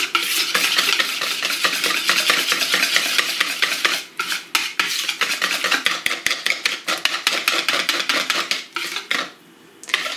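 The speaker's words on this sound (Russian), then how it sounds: "Перемешиваем." Rapid, continuous stirring of kefir pizza batter with a spoon scraping against a bowl, busy and close, with brief pauses near the end.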